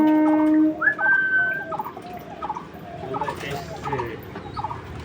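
Domestic pigeons gathering at feed and water, with soft cooing and wing flutters close by, mixed with clattering and rustling, a brief whistle-like tone near the start, and light background activity.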